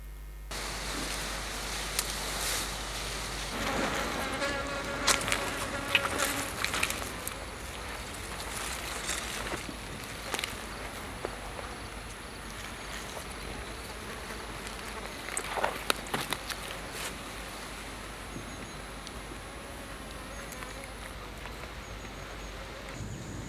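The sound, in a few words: flies buzzing sound effect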